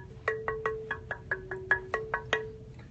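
A ziricote wood guitar neck blank is tapped about eleven times in an even rhythm, each knock ringing with a clear pitched resonant tone that decays quickly, fairly quiet and close.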